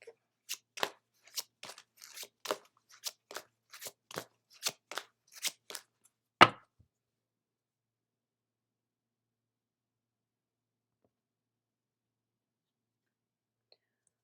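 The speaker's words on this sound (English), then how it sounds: "Next, we will pull a card from the Keeper of Light deck." Cards shuffled and riffled from a Keeper of Light oracle deck, a steady run of about a dozen crisp snaps over six seconds ending in one louder slap as a card is drawn, followed by silence.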